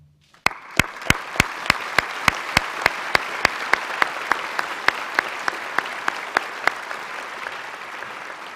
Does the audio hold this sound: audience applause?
yes